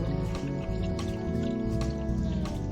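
Homebrew all-grain beer wort poured slowly off the sediment on a stovetop, a steady continuous liquid pour with faint dripping and gurgling running throughout.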